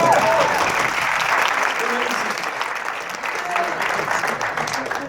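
An audience at a leaders' meeting in Montreal applauds with sustained, dense clapping that fills the room, steady and fairly loud throughout, with faint voices mixed in.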